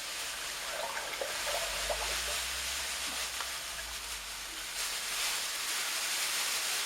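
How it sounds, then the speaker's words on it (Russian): Warm water sloshing and trickling as prepared sugar is stirred and dissolved in six liters of it for a homemade cherry plum moonshine mash, a close, continuous splashing wash with soft clinks and low rumble, no voices. "В 6 литрах теплой воды я растворяю приготовленный сахар."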